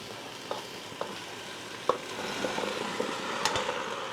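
Bell pepper strips and other vegetable chunks frying in a Cookeo pot for a chicken curry: a continuous sizzle under a few sharp stirring knocks, close by and unaccompanied by speech.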